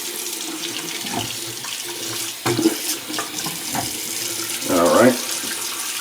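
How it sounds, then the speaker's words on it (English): Hot water runs from a tap into a filling bathroom sink, a continuous splashing rush with brief clatters, and someone says a word over it. "I'm going to fill the sink up with some hot water so we have something to dip the razor in"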